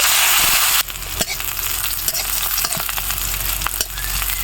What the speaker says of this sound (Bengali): একই তেলের ভিতরে কিছুটা পরিমাণ আমি কাঁচা পাকা ঝাল দিয়ে দিব